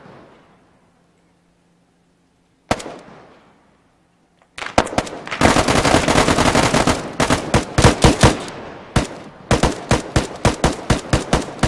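Bursts of gunfire in the military video game Arma 3: a lone shot, then a quiet pause, then sustained rapid automatic fire and a run of sharp single cracks, loud and close.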